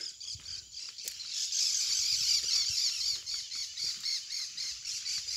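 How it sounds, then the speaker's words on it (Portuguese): Several parakeets call together in the caatinga scrubland, making a dense, steady mass of high squawking chatter that pulses slightly, with no voices. "Vários periquitos."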